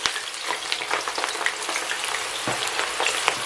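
Onion dropped into hot vegetable oil in a stew pot sizzles loudly and steadily, a bright crackling hiss with scattered pops and a few soft stirring knocks, no voices.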